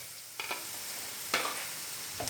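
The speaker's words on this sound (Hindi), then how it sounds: "तो प्याज को हल्का सा फ्राई होने देते हैं।" Onions fry with ginger garlic paste in a pan, a faint steady sizzle broken by a few brief scrapes and stirs of a spoon, no talking.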